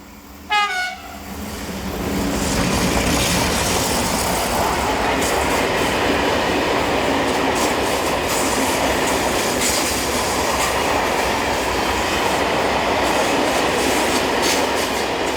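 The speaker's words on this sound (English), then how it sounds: "The first train caught us out as it appeared from seemingly nowhere, but we've included it as it shows a different type of traction, with a Class 335 diesel in the consist" A train hauled by a Class 335 diesel locomotive passes in Spain, opening with a short horn blast, then a loud sustained roar of wheels and engine that stays steady as it goes by.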